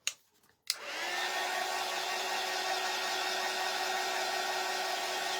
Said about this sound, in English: We're going to bring our dryer over,